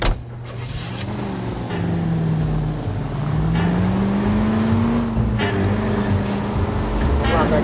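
A car engine drones steadily in the L.A. Noire video game, its pitch rising and falling as the car accelerates and shifts, loud and continuous with voices talking over it.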